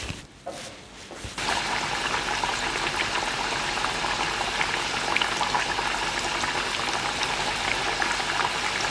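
Chicken deep-frying in plenty of oil gives a dense, steady bubbling sizzle that starts after a quieter second and keeps going loudly, with no talk.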